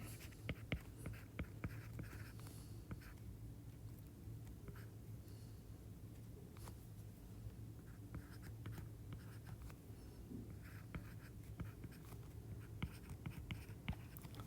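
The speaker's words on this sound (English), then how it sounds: "So I'm gonna go ahead and go back over here and write that." A pen writes out an equation by hand on paper during a math review, producing a steady, close-up scratching of strokes and pauses throughout, with no talking.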